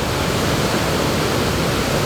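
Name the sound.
waterfall rushing water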